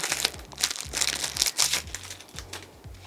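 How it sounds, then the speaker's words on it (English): Single fold bias tape unravelling from a roll for a kimono cardigan hem, a close, steady run of soft crinkling and rustling pulls in quick irregular bursts. "As I unravel my single fold bias tape."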